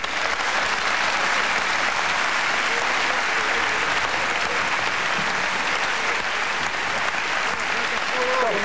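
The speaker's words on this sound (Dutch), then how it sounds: "Mag u applaus voor de aannemer die Carré zal gaan verbouwen," A theatre audience in Carré claps for the contractor who will renovate the building, a dense, loud and unbroken wash of applause that holds steady throughout.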